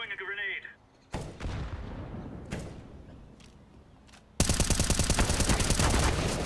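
Gunfire and a grenade blast in Counter-Strike: Global Offensive, a loud burst near the start, scattered shots, then sustained rapid automatic fire toward the end, with a voice briefly speaking early on.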